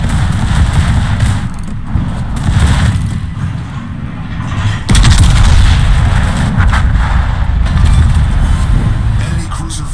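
Secondary guns on a Wujing warship in World of Warships fire continuously, a loud dense barrage of booms and rattling shots with an engine-like rumble beneath, nearly unbroken throughout.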